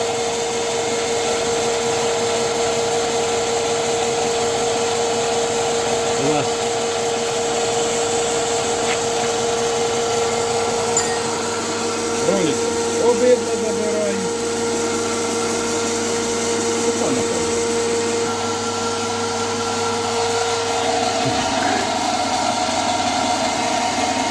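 A pellet mill granulator running steadily, a loud continuous motor hum with mechanical whine and occasional knocks and rattles of material being pushed through, with no talk.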